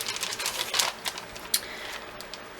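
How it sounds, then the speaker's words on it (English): Crinkling of plastic packaging, handled up close while showing knitting yarn, with irregular bursts of crisp rustles and sharp crackles that rise and fall in loudness. "Sorry for the crinkling."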